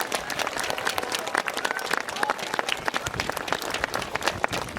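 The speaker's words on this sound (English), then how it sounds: "Can we give them a huge round of applause?" A crowd at a St George's Day parade claps in dense, steady applause, close and continuous, with voices mixed in underneath.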